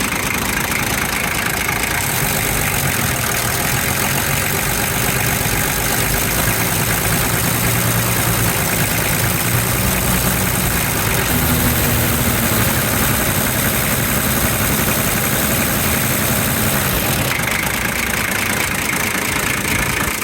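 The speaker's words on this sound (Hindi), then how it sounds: "इंजन फाइनली कंप्लीट हो गया है, इस वक्त स्मूथ भी है, साउंड भी बहुत अच्छी है।" A restored 1988 Toyota Land Cruiser 60 Series engine idles smoothly and steadily for a long stretch, a loud, close, even rumble with no revving.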